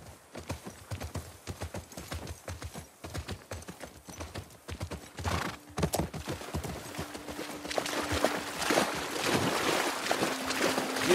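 Horse hooves clip-clop at a steady walking pace in The Last of Us Part 2 video game, moderately close, with ambient wind and a faint tonal hum building toward the end.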